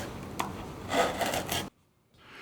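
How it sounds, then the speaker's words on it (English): A chisel is forced through a piece of wood: scraping, rasping cuts in short strokes, close and fairly quiet, followed by near silence and a faint final scrape. "We're working with a chisel, forcing a chisel through a piece of wood."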